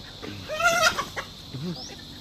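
Native chickens just let loose cluck in a brief, close burst of a few rapid calls, followed by a softer low cluck.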